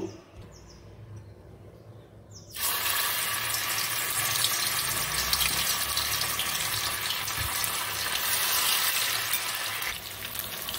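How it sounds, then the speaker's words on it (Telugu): Nethallu fish deep frying in hot oil, a loud sudden hiss and crackle bursting in after a quiet start and sizzling steadily to the end, with no talk. "ఇప్పుడైతే నేనైతే వీటిని ఫ్రై చేసేసుకుంటాను ఒక్కొక్కటిగా ఇందులో యాడ్ చేసేసుకొని"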